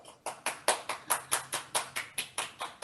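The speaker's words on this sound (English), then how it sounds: "let's all have a round of applause for Eliana" Clapping for a young performer after a piano piece at a virtual recital: about a dozen steady, evenly spaced claps from one or a few pairs of hands, close and fairly quiet, with nothing else heard.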